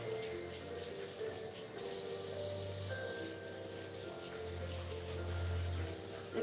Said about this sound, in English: I'm just gonna rinse my hands off really quick